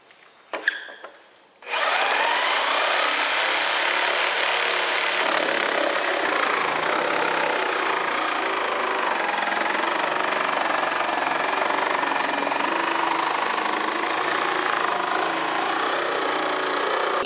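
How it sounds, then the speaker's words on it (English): A reciprocating saw cuts a 45-degree bevel into the lid of a large plastic bin, after a brief handling clatter, then a loud, steady, continuous buzzing rasp that runs without pause to the end. "I'm going to go around with a sawzall and cut it in at a 45-degree angle, a bevel"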